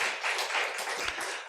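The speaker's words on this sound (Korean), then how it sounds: "우리 한번 환영의 박수 하겠습니다" A church congregation applauds to welcome missionaries, with dense, steady clapping from many hands and no talk over it.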